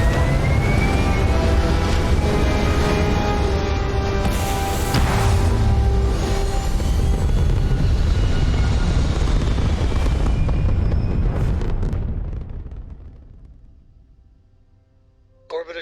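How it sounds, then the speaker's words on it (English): A spaceship's thrusters fire at launch in the game Starfield, a loud, sustained roaring rumble that holds for about twelve seconds and then fades away into near silence. "All thrusters firing."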